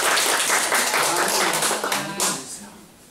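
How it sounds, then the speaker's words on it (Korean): Lecture attendees in Korea applaud a professor after her talk, a broad wash of clapping that holds steady and then fades toward the end. "교수님께 박수 부탁드립니다."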